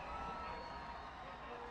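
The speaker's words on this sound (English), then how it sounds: "The loud crowd is stomping." Loud crowd noise fills the stands at a high school football game between Beavercreek and Fairmont, a steady dense roar with stomping rumble throughout, close and sustained.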